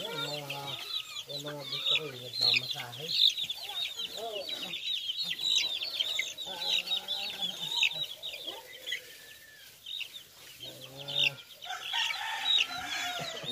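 A rooster clucks and crows repeatedly at close range, with bursts of hoarse calls and softer chicken clucking between them.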